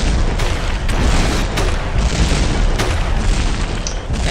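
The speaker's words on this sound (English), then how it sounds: "The explosion's gonna reach him." Explosions boom in the video game Masked Forces, crazy mode with rockets everywhere, a loud dense barrage of overlapping blasts lasting throughout with no break.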